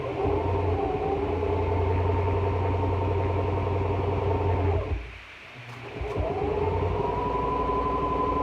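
A home sewing machine stitches a fabric face mask, back tacking over the elastic at a corner: a steady, loud mechanical whir with a rapid needle rhythm that briefly stops, then starts again.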